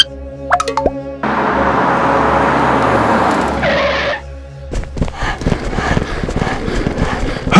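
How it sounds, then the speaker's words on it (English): Game car driving in, heard as a loud engine roar that cuts off sharply, followed by clattering thumps and clip-clop sounds and scattered knocks. "It's a kidnapper's car."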